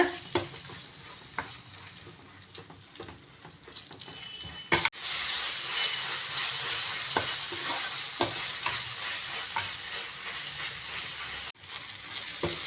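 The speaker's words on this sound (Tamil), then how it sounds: "இஞ்சி பூண்டோட பச்சை வாசனை போகிற வரைக்கும் நல்லா வதக்கி விட்டுக்கோங்க" Ginger garlic paste and tomatoes sizzle in a hot pan for an aloo methi masala, with a steady frying hiss and repeated scraping stirs of a spoon throughout, close and continuous.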